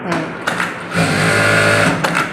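A sewing machine runs steadily just after being oiled, its motor whirring in a continuous mechanical hum with brief stops and restarts near the start and end, close and fairly loud.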